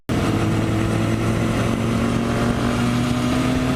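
A Kawasaki Ninja 400 motorcycle fitted with a new aftermarket exhaust runs loud and close, starting abruptly and then holding a steady, droning engine note throughout.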